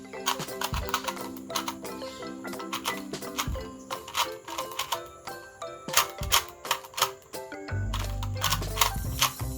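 A 2x2 Rubik's Cube is shuffled by hand in rapid bursts of plastic clicks and rattles, uneven in rhythm and close by, with music playing underneath throughout.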